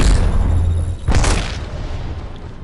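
A thudding boom with a crackling burst from an Arc Star grenade going off in Apex Legends, one sharp blast about halfway through over steady game noise and low rumble.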